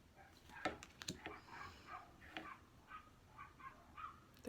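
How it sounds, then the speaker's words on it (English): Dogs bark outdoors at a distance, a scattered run of sharp yips and barks that rise and fall in faint, irregular bursts against a quiet background. "There's dogs barking outside."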